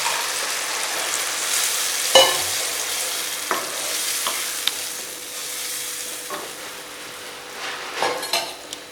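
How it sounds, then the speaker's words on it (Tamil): Cooked dal poured into sizzling sautéed tomatoes for mini idli sambar, then stirred: a steady close frying hiss with scattered spoon scrapes and clinks against the pan, no talking. "இப்போது நம்ம இந்த பருப்பு இதில் ஊற்றிடுவோம்."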